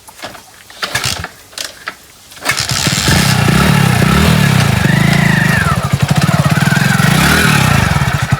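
A few mechanical clicks and knocks, then a motorcycle engine starts and idles loudly nearby with a steady throbbing putter.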